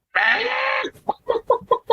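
A chicken vocalizes up close: one long, loud squawk of about three-quarters of a second, then a quick run of five or six short, evenly spaced clucks.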